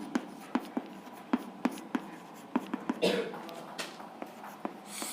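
Chalk or marker scratches on a classroom board during a chemistry lesson, with short strokes tapping out in an irregular rhythm, close and fairly quiet, and a faint voice in the background.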